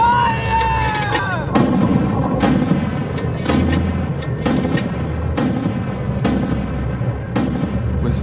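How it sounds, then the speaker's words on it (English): Mortar fire from a Canadian platoon in a Korean War battle: repeated heavy booms and sharp reports in an irregular barrage, loud and continuous, with a brief tonal sound at the start. "With fire from Forbes' mortar platoon, the Canadian line holds."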